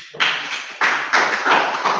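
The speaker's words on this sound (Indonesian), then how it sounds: "Oke, tepuk tangan." Classroom applause: a few loud, uneven bursts of hand claps from a small group, close by and without talk.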